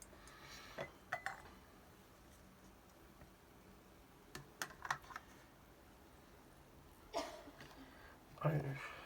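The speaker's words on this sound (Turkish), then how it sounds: "burada son kez bir, bir kere daha karıştırıyorum iyice kahvenin etrafa yapışmasın için" Aeropress coffee being stirred, giving a few scattered scraping and clinking taps spread across the clip, fairly faint, with a voice talking between them.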